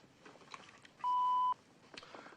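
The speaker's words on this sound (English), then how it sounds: "wait for the little beep" An answering machine gives a single steady electronic beep lasting about half a second, loud and clean, with faint room noise before and after.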